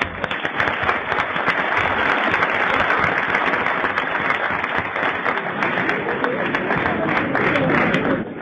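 Sustained studio audience applause on a French radio-TV comedy panel show, a dense, steady wash of many hands clapping at full strength throughout, with no voices breaking through.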